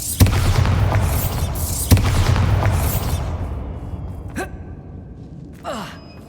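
Bombarda explosion spell in Hogwarts Legacy: two heavy booming blasts with cracking onsets and rumbling decay, then quieter swooshing magical bursts and a breathy sigh.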